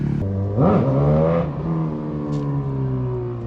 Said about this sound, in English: They're down popping wheelies.